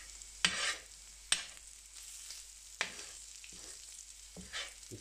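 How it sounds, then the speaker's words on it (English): A rounded spatula scrapes bacon residue off a hot carbon steel griddle on a stovetop: three or four sharp scrapes, spaced a second or so apart, rise over a steady soft sizzle of fat. "I can scrape out the gunk from the bacon"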